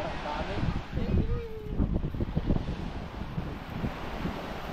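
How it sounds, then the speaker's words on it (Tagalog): Rolling sea waves and gusting wind buffet the microphone outdoors, a continuous rough roar with faint voices mixed in. "Grabing alon, eh. Kahit dito sa kabila may alon pa rin"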